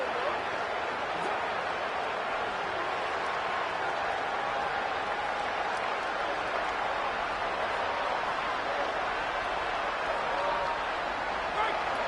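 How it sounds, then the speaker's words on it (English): Stadium crowd noise in a college football video game at a TCU versus Texas Tech playoff game, a steady, dense roar and cheering sustained at constant loudness throughout with no breaks. "It's early, but this crowd is fired up. Listen to this noise here."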